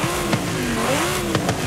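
Corvette E-Ray engine in the Forza Horizon 5 racing game after an exhaust swap, a loud sustained revving drone that rises and falls in pitch, with a couple of short sharp transients.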